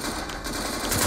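Rapid gunfire from the top-down shooter game Surviv.io crackles in a dense, loud burst lasting about a second, with no talking.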